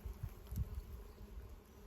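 A low, faint buzzing hum of many honeybees drones continuously, with a few slightly louder swells as insects pass nearby.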